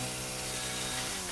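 A chainsaw chops through a wooden barrier in Resident Evil 7, a steady close grinding and rattling buzz that holds for just over a second with no talk.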